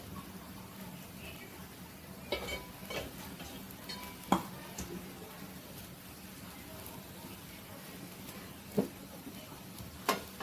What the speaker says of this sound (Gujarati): બંને સાઈડ આપણે થોડું ઘી લગાવી દઈએ.